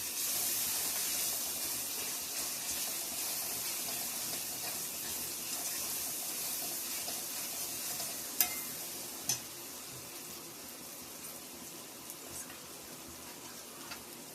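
Garam masala and biryani masala being mixed in a pan for egg biryani give a soft, continuous sizzle with a hissy, watery texture. Two sharp utensil clicks come near the end.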